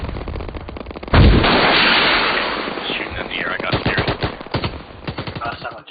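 Bursts of automatic weapon fire in a military video game, a loud sustained rattling volley kicking in after a second, followed by more scattered shots, with radio-style voices talking underneath.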